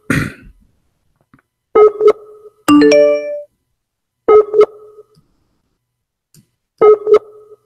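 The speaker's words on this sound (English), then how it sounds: "I'm calling you Abdul" A phone call rings out in repeated two-tone electronic trills spaced a few seconds apart, with a brief dialing jingle near the start; loud and close, with no talking over it.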